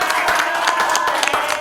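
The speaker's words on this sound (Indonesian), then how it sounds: "Ibu-ibu di sana boleh tepuk tangannya" Women in a podcast studio audience clap, a short lively burst of many hands with distinct individual claps audible, close and fairly loud.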